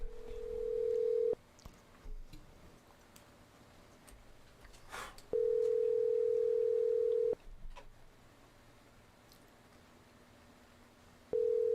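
A telephone ringback tone heard while calling in to a radio show, sounding as long steady tones separated by pauses, three bursts over the span with faint background noise between them.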